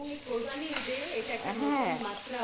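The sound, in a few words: beef frying in butter with garlic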